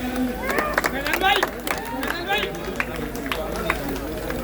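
A crowd claps in welcome at a turban-tying ceremony honoring an ustad, irregular bursts of hand claps among chatter and shouting voices, close and lively throughout.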